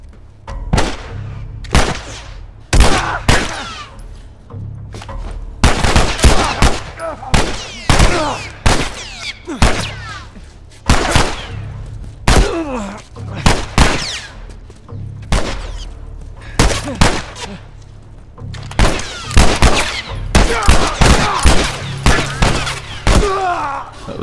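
Sustained, loud gunfire in The Last of Us Remastered: rapid volleys and single shots, some with booming thuds, go on continuously with brief gaps.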